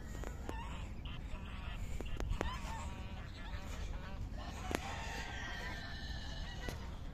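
Ducks on a desert farm in Kuwait give scattered honking, quacking calls at moderate distance over a steady outdoor background hiss, with a few sharp clicks.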